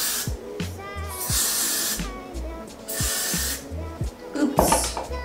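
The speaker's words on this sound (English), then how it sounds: "let me spray that down" Spray bottle misting water onto a wig during installation, several short hissing bursts in quick succession, close and fairly loud, with faint background sounds between sprays.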